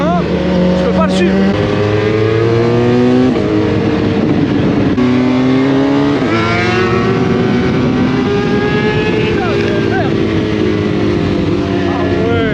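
A Suzuki GSX-R 1000 sport motorcycle ridden very fast, its engine note rising and falling in steady, strained tones that sweep up and down continuously and loudly throughout.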